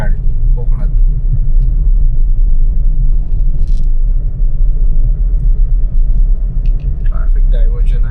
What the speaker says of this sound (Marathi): ते व्हायब्रेशन आणि ते फ्रिक्शन जाणवतं गाडीला पण.